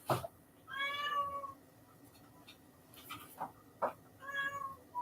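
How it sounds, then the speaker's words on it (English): A cat meows several times, close and fairly quiet, with small clicks and rustles between the cries. "Keep crying. That's going to drive some other cats crazy on the stream."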